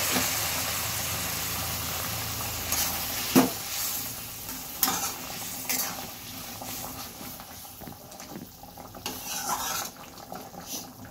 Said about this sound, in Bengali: এবার আমি সিদ্ধ আলুটা, বয়েল করা আলুটা আমি ঢেলে দিচ্ছি।